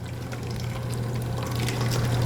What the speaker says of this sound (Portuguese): Nós vamos escorrer essa marinada, ó, tirar o excesso de água